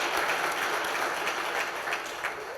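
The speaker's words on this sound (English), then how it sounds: "I think another round of applause for everything that's been done." A sustained round of applause from an audience at a public event honoring a mayor and staff, a dense steady wash of clapping at moderate loudness with no talk over it.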